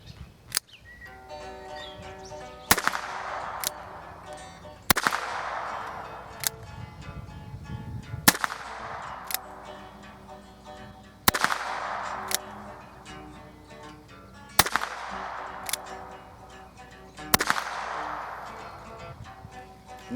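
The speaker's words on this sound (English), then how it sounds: "And at 15 yards, that's 6 slow aim shots." Six deliberate revolver shots from a Ruger Wrangler ring out outdoors at a 15-yard target, each a sharp loud crack with a ringing tail, spaced roughly two to three seconds apart.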